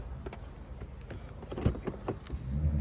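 The soft-closing door of a 2025 Mercedes E 53 AMG plug-in hybrid closes quietly: a low motorised whir with a few soft clicks and a thud as the latch pulls shut, heard up close and alone.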